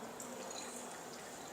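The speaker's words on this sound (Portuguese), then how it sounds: "agora a gente completa com o volume de água para 500 ml." Water runs steadily into a 500 ml volumetric flask through a funnel during a chemistry experiment, a continuous close splashing fill with no talk.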